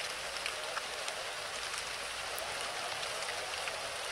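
Steady rain falling in the Free Fire video game, a dense even hiss of drops with occasional light ticks, continuous and close, without speech.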